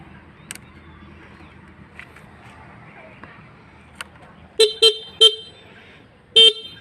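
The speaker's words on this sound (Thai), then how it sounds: "แตรดัง" A 110cc Thai motorcycle horn honks four times in short, loud bursts, the last one slightly longer, over a quiet low engine idle with some faint background noise.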